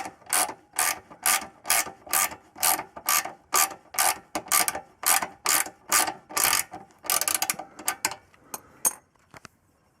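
A hand ratchet clicks in quick, even bursts while winding bolts into the rear end of a Lotus Excel, loud and close, with the strokes slowing and thinning out toward the end.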